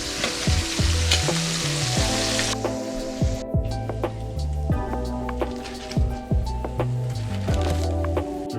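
Walleye fillets in a fish fry coating mix fry in canola oil, giving a steady loud sizzle throughout with brief pops and occasional stirring knocks.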